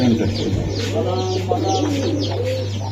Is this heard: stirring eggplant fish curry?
no